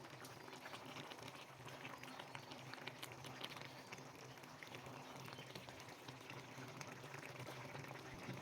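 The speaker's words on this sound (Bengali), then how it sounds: "ঝোলটা যখন এইরকম ফুটে আসবে" Curry gravy with peas bubbling at a steady boil in a pan, a continuous dense burble of small popping bubbles with no talk over it.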